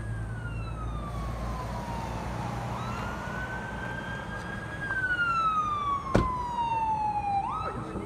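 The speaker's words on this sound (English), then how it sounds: "We got fire coming up." A fire engine siren wails up and down at a crash scene, growing louder as it approaches, with a brief sharp blast near the end.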